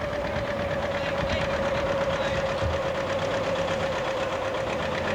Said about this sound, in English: It's a 720 John Deere, this one